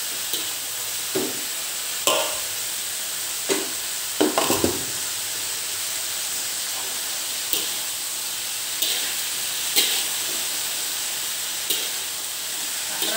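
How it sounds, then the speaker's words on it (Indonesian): Food frying in a pan hisses steadily while a utensil scrapes and stirs it every second or two, the strokes sharp and close over the continuous sizzle. "Ini kita campurkan semua, asam merahnya, asinnya."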